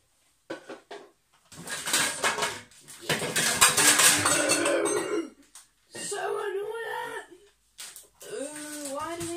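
Pots and pans rummaged through in a crammed kitchen cupboard: clanks and metallic rattles come in bursts, mixed with a person's talking and straining vocal noises close by.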